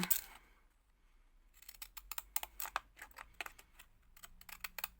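Scissors snipping through paper while cutting out a ghost-shaped gift tag, a soft rustle and then a rapid run of sharp, close, quiet clicking cuts with brief pauses.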